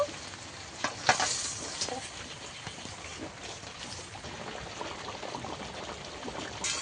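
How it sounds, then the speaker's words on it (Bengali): Fish curry gravy bubbles in a pan on the stove, a soft, steady sizzling simmer with occasional louder spatters and stirring sounds, heard close and without talk. "এবার ঝোলটাকে ভালো করে ফুটিয়ে নেব"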